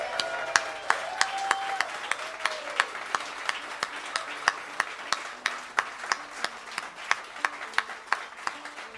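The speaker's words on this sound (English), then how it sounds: "I'd just like to have another big, massive, beautiful round of applause for Mr." Livestream audience applauding guitarist Mike Dawes at a blues/rock gig, a scattered round of claps heard alongside sharp, evenly spaced percussive clicks and faint tonal notes.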